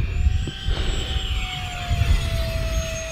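Small RC jet plane performing a snap roll in cold outdoor air, a steady high-pitched turbine whine with a slowly falling tone, distant and continuous with low wind rumble underneath.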